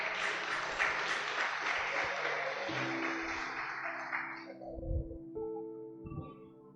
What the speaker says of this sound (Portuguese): Dê um aplauso para o Senhor, querido.